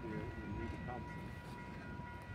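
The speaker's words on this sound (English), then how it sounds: "Here comes the Canadian Pacific Holiday Train 2022." The Canadian Pacific Holiday Train, led by locomotive 2249, rumbles past nearby in Alliston with a steady, heavy roar and a faint high whine riding over the noise.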